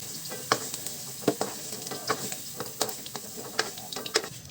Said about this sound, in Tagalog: Prituhin na natin itong ating carrot, patatas at kamote.